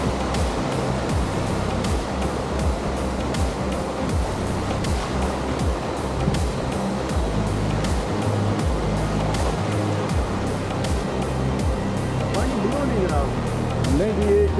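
Ocean surf rolls continuously onto Tamarindo Beach, Costa Rica, a black volcanic sand shore where people try to surf, with a steady wash of breaking waves and a voice talking over it.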